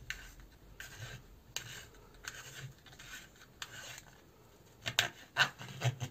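Hand-cranked manual garlic chopper twisted with three garlic cloves inside, giving repeated short scraping, rasping bursts in an uneven rhythm, close and fairly quiet, with a few sharper clicks near the end.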